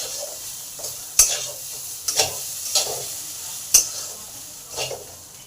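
Papaya seasoned with turmeric fries in a pan, a low steady sizzle broken by several sharp stirring scrapes and clatters at irregular intervals, close and fairly quiet.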